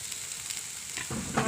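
Food sizzles in hot oil in a pan during village-style cooking of rohu fish with potato and pointed gourd, a steady bright hiss with brief stirring scrapes near the end, close and continuous without talking.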